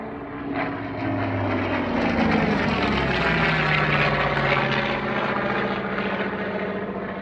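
A Focke-Wulf FW190 fighter's propeller engine drones at an airshow, a sustained rumbling roar that swells as the aircraft passes and then holds steady at moderate distance.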